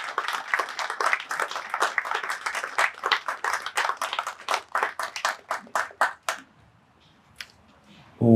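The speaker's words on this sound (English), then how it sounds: "Let's give another big round of applause to this cadre member for their outstanding accomplishments." Audience applause at a military officer candidate school graduation ceremony, a dense burst of clapping that thins into scattered individual claps and then fades to near silence.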